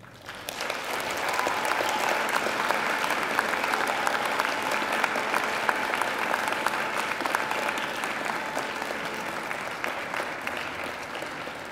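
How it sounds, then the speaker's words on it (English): A large graduation audience gives sustained, dense applause for the graduates, steady and loud from start to finish without any voices. "And now I invite you to give them a mighty round of applause"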